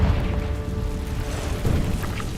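A Confringo spell blast in Hogwarts Legacy rolls out as a heavy, sustained low rumble and boom that fills the whole moment, loud and dense with no speech over it.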